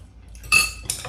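Metal utensils clink against a dish while stir-fried glass noodles with shrimp are mixed, two sharp close chinks over a quiet background.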